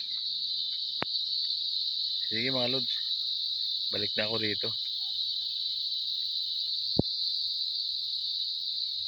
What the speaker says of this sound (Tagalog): sarap pakinggan ang huli ng kuliglig